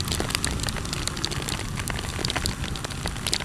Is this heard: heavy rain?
yes